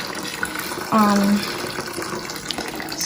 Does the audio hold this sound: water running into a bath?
yes